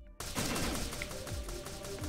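Kinetic explosion gun firing in the Crisis Point: Extinction video game: after a brief silence, a sustained, dense volley of rapid blasts rolls on continuously for about two seconds at moderate level, with no speech.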